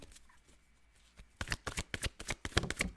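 Tarot cards are shuffled by hand in a quiet room, a soft faint rustle at first, then a rapid series of crisp, close riffling slaps and flicks.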